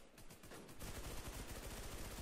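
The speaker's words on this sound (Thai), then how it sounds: "ข้างในเขายิง" Rapid gunfire in an online multiplayer shooter game, a quiet burst of repeated shots that turns into dense continuous firing after a moment, heard alone without talk.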